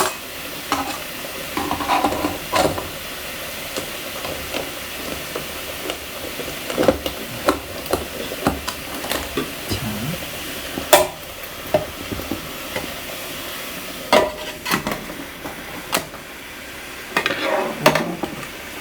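Dry ramen noodle block, broken into thirds, dropped into a backpacking cook pot of hot water, then stirred with light scraping and clinking against the pot's metal sides over a few near, irregular bursts.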